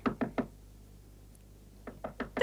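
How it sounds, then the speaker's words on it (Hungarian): Knocking on a door in a 1985 Hungarian film: a quick burst of three sharp raps, a pause of silence, then four more knocks, close and clear with no talking. "De akkor is kopogtak, hallják, hogy beszélünk."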